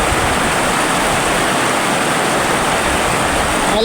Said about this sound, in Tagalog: Maano kasi malakas yung agos niya eh.